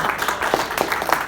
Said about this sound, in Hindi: तो एक बार जोरदार ताली बजाओ यार।